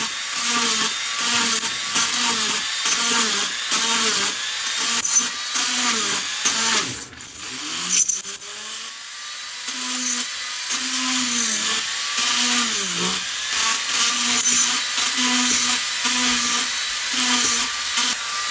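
A high-pitched Dremel rotary tool whines steadily, drilling metal gas grill burners, briefly stopping and restarting partway through, with its pitch dipping as it bites into the metal.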